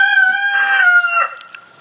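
A rooster crows once nearby, loud and clear, in a single drawn-out cock-a-doodle-doo that fades into a few quieter trailing notes.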